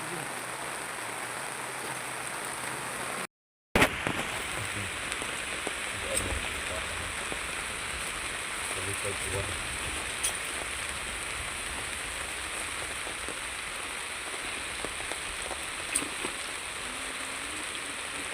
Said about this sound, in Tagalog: While we are harvesting charcoal, it's raining day. It's raining here.